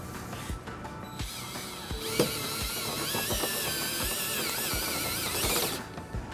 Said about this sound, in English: we need to enlarge this hole right here on the driver's side.